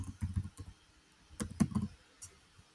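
A computer keyboard is being typed on in quiet, soft bursts of clicky keystrokes, with a short pause between the clusters.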